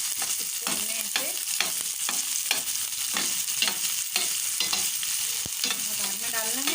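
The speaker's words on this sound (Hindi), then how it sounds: "अब हम ज़ीरे के भगार के साथ ही इसके अंदर ऐड करेंगे प्याज" Chopped onion frying in a cumin tempering, a bright continuous sizzle with repeated spatula scrapes and stirring strokes in a steady rhythm, close and loud with no voices.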